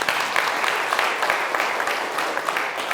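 Sustained audience applause at a lecture on the May 18 democratization movement, a steady dense crackle of many hands clapping for the full few seconds with no talk.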